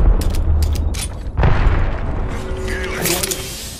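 A grenade blows up in Apex Legends with a single booming blast amid the mechanical clatter and gunfire of a firefight, close and loud, while a voice talks over it.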